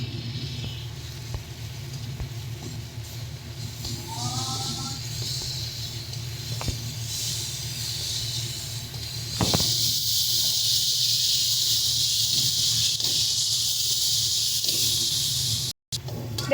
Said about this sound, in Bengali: সমস্ত কিছু দিয়ে এবারে ভালো করে মশলাটাকে কষিয়ে নেব।